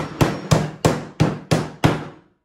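Ice being crushed by hand, six sharp, evenly spaced impacts about a third of a second apart, each with a brief crunching decay, close and loud with no talking.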